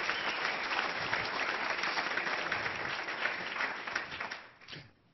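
A lecture audience applauds in a dense, sustained wave of clapping that fills the room, then fades out over the final second.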